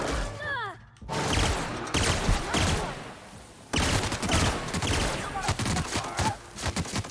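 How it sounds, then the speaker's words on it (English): Three-shot burst gun firing in The Outer Worlds video game, loud clustered bursts of shots in rapid succession, repeated several times over a few seconds with a short gap, close and harsh with a brief sigh-like voice. "it fires 3 shots at once"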